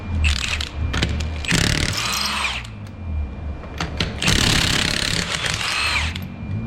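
An impact gun spins off the 21mm lug nuts on a Hyundai Santa Fe rear wheel in two long, loud whirring bursts, with brief rattling bits of tool noise around them and no talking.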